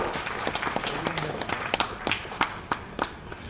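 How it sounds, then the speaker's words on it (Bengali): An audience applauds at a stage event to welcome a guest, steady clapping from a crowd with some sharper nearby claps, moderately loud and continuous. "যতক্ষণ পর্যন্ত স্যার স্টেজে থাকবে স্যারকে করতালির মাধ্যমে আমরা শুভেচ্ছা জানাবো।"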